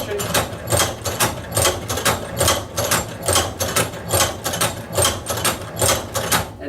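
Hand-crank leather sewing machine stitching through leather, a steady repeating mechanical clatter of needle and gears at a regular rhythm, close and loud, with no break.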